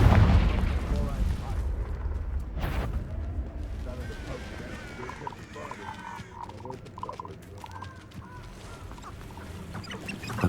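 A Confringo fire spell blasts in Hogwarts Legacy, opening with a loud booming burst followed by a rumbling tail and scattered crackle, with a voice calling out around it.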